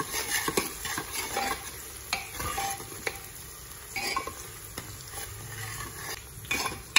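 Onions softening in hot oil in a pan for keema, a steady low sizzle with frequent scraping and stirring clicks of a spoon against the pan, close up, with no talking.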